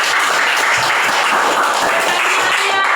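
A classroom breaks into steady applause, many hands clapping together in a dense, loud patter for several seconds.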